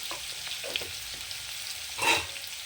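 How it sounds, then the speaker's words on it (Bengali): Potatoes frying in a pan with a little salt, a continuous close sizzle with a brief louder spatter or stir near the end. "আলুটাকে এখন আমি লাল লাল করে ভেজে নেব"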